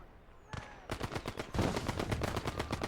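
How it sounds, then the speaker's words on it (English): Machine gun fire in the World War II video game Gates of Hell Ostfront, a rapid string of sharp shots, first a single report then sustained bursts growing louder. "he's got a machine gun shooting back at me"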